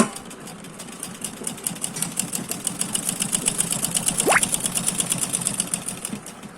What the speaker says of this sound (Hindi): बिल्कुल मशीन पाइपिंग के बिल्कुल पास से चल रही है